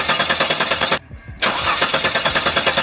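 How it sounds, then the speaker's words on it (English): A supercharged Holden VX Calais engine cranks on the starter with a steady, rapid, loud chugging, broken by a brief gap before it resumes. "You just let that crank for a good 20 seconds or so, just to let all the oil run through the motor."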